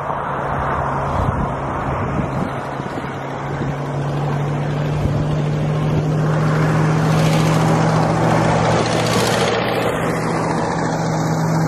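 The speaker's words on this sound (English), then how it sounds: "We got a tractor coming up behind me." A tractor engine comes up from behind during a fishing trip, a steady low droning rumble that swells louder as it closes in, with wind buffeting the microphone and no one talking.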